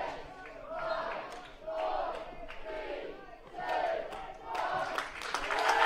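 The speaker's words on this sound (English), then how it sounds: "The countdown is on in the crowd." Crowd at a men's EuroHockey Championships field hockey match chanting a countdown in rising, rhythmic waves of voices, loud and sustained, swelling toward the end.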